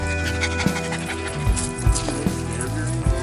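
An overheated small dog pants steadily on a day hike, quick rhythmic breaths close by, with occasional clinks and a musical or noisy background throughout.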